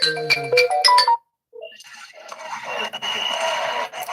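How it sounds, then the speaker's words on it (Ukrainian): A phone ringtone plays a short melodic tune, then cuts off; after a brief pause, a noisy background murmur of a room fills the rest. "Так, хвилиночку, бо телефонують."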